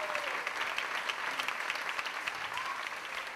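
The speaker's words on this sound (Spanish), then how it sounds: "Muy fuertes aplausos para estos maravillosísimos músicos." A concert audience gives sustained, loud applause for jazz musicians, a thick, even roar of many hands clapping throughout with faint voices mixed in.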